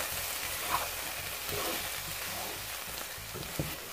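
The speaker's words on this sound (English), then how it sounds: "we're going to let that flour kind of cook out. And then just kind of mix it all together." Flour cooking in a pot for creamy mushroom soup, stirred with a low, continuous sizzle and faint scraping, quiet and steady without speech.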